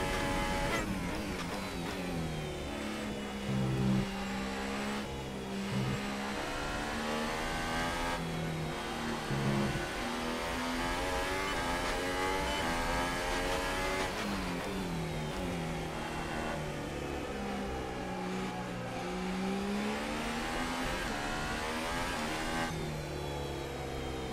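Formula 1 car in the F1 2018 racing game at the Belgian Grand Prix, engine revving loud and continuous with rising and falling pitch through gear changes, no talk.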